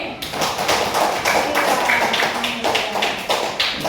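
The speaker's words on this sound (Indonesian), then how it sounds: "Mana tepuk tangannya dah, ulangi." A group of schoolchildren claps their hands together in a classroom, a dense, steady patter of many hands that runs close and even for the whole stretch.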